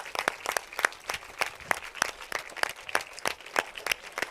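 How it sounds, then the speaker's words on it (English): Audience at a school event claps in sparse, distinct, rhythmic strokes, roughly two or three claps per second, sharp and fairly close, sounding like a small group clapping in loose unison rather than a full ovation. "the team needs a bigger round of applause"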